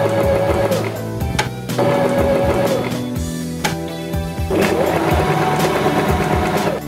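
Janome 523H sewing machine running a zigzag stitch in bursts of steady mechanical whirring and rapid needle chatter, separated by brief pauses, close and fairly loud.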